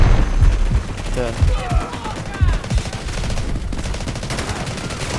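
Rapid gunfire from an automatic weapon in the mobile shooter game Delta Force Mobile, played on an iPhone 16e. Dense bursts of shots crackle continuously over a noisy mix throughout.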